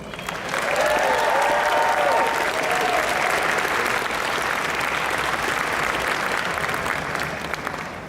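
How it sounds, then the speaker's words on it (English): A convention crowd at the Otakon 2018 opening ceremonies breaks into loud, sustained applause filling the whole stretch, with a few cheers and whoops rising briefly near the start. "Please give a round of applause for our Vice President, Kimberly Marana, and Con Chair,"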